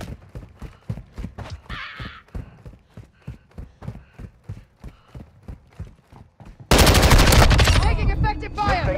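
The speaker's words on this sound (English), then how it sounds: "Taking effective fire!" Video game gunfire cracks out in rapid, evenly spaced bursts, then swells into a dense, loud roar of overlapping shots and blasts near the end.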